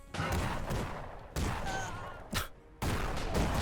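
Rapid volleys of airship guns in the video game Airships: Conquer the Skies, crackling in dense bursts separated by brief gaps, loud and close with no talk over them.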